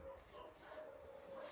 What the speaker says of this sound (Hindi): कुत्ते भौंक रहे हैं यार।